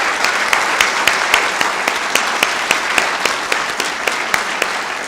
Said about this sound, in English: Another huge round of applause for Sharon and Jeanette